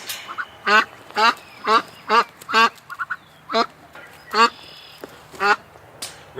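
A duck quacks in loud, harsh bursts, about ten calls in uneven rhythm, close by, with a softer voice murmuring briefly between them.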